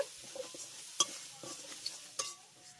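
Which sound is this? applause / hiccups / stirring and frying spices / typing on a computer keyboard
stirring and frying spices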